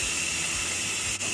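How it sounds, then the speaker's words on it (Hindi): Electric pressure cooker venting steam while cooking paneer curry, a steady loud hiss that holds even throughout without a break. "मैं इसका प्रेशर रिलीज़ कर रही हूँ"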